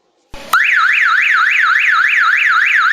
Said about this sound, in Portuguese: alarme de ré